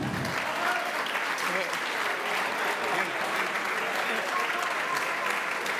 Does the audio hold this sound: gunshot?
no